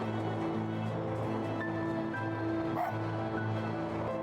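A fox barks in the video game Spirit of the North, with a few short yips over a steady musical drone and ambient game sound.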